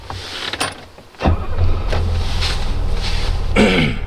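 A 1981 Mercedes 280CE W123 with a four-speed automatic transmission cranks briefly and catches, then settles into a loud, steady, deep idle close by with no throttle.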